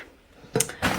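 A makeup vanity drawer opens with a quiet scrape followed by a louder sliding rush and knock near the end, close by and alone.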